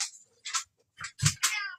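A cat gives a few short, fairly soft meows in quick succession, close by.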